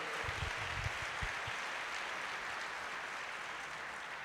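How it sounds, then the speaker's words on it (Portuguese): A church congregation claps during a worship service, a broad steady wash of applause that fills the room and holds evenly throughout. "Dá um aplauso ao Senhor."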